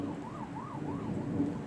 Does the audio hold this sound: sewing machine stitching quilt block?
no